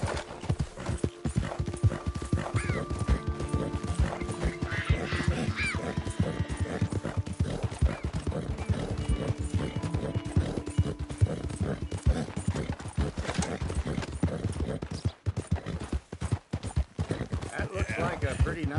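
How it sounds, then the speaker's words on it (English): Horse hooves clip-clop steadily in Red Dead Redemption 2, with whinnies and neighs breaking in, close and busy throughout and ending in a brief dropout near the end. "That looks like a pretty nice horse you got there."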